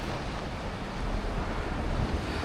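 Sea waves break on a beach in Spain with a constant rushing wash of surf, mixed with wind buffeting the microphone, loud and close with no voices.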